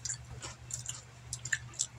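Someone chews a chocolate covered strawberry shortcake pretzel up close, giving soft, wet, squishy bites and mouth sounds at an uneven pace over a low background hum.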